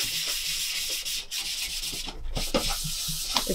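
A painted toy dollhouse kitchen piece is rubbed with fine 1000-grit sandpaper in short, steady, close strokes, a soft continuous scratching with a few brief pauses.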